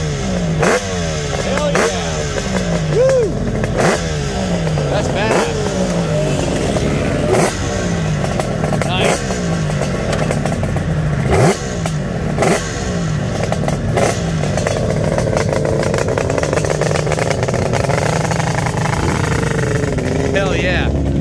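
A 1982 900F vintage motorcycle at a vintage motorcycle racing event revs loudly up close in repeated rising and falling bursts over a rumbling idle, with people talking throughout.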